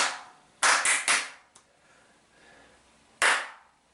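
Three quick hand claps ring out close by, then a pause and a single clap, meant to trigger a sound-sensing RGB LED decorative light. Each clap is a sharp, loud burst in an otherwise quiet room.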